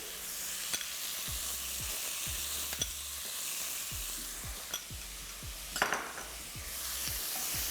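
Dijon mustard is stirred into a chicken hotpot with spring vegetables, a spoon scraping the pot in steady repeated strokes over a constant close sizzle, with a few brighter clinks of utensil on metal.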